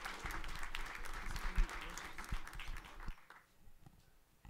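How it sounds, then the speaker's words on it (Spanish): Audience applause at a ceremony inaugurating a women's justice centre in La Magdalena Contreras, a steady clapping crowd heard indoors that fades out toward the end. "Un aplauso, por favor."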